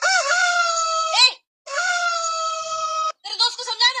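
A rooster crows loudly and close by, in two long drawn-out calls and then a shorter broken one.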